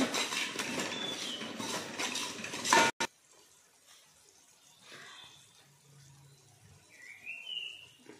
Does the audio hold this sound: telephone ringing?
no